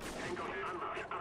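A quick burst of heavy gunfire in the video game Spec Ops: The Line, booming, rumbling reports, loud and close, mixed with a raised voice.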